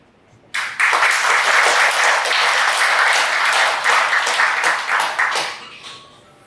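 A seminar audience breaks into a burst of applause that starts sharply, holds full and dense for about five seconds, then fades out, heard alone without speech.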